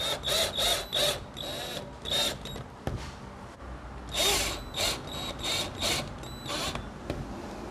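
A power drill whirs in short repeated bursts into a wall to set wall plugs, two clusters of high-pitched revving with brief pauses between, close by and fairly loud.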